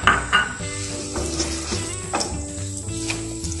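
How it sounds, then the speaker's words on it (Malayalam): Crushed dates are stirred in a pan over a low flame. A spoon clinks and scrapes against the metal in loud, close strokes, with a soft sizzle underneath and a tonal background hum. "നന്നായിട്ട് ഇളക്കി കൊടുക്കണേ."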